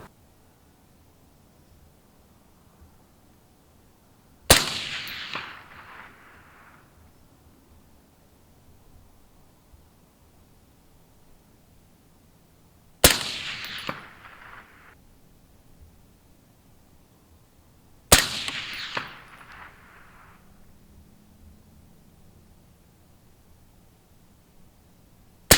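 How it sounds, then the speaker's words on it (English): Three sharp AR15 rifle shots firing reloaded ammunition, spaced several seconds apart, each a loud crack with a short decaying tail over a quiet background. "I'll just shoot 4 shots now."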